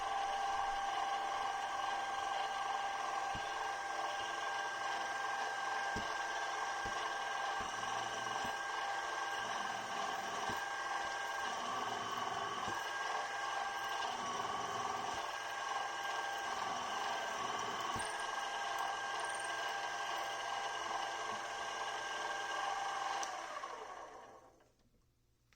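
A milling machine cuts chamfers into an aluminum workpiece for a knurling tool holder, a steady droning whine with layered tones running continuously for over twenty seconds, with faint ticks and clicks, before fading out at the end.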